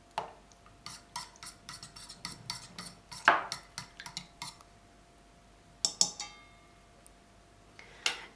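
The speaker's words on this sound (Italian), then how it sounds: "Mescoliamo ancora un po'. Verso circa 20 grammi di olio." A spoon scrapes and clinks against a bowl in short rhythmic strokes while a brioche dough mixture with about 20 grams of oil is stirred, close and fairly quiet, with a few louder taps and a pause near the end.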